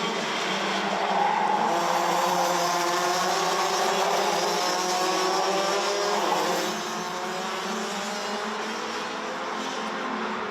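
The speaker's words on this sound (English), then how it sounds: "Now Louvois pulls out of the slipstream, decides to send it." Race cars, Rotax DD2 Masters karts at the Genk circuit in Belgium, race on a track with a loud, continuous engine whine of several machines together, fading slightly toward the end.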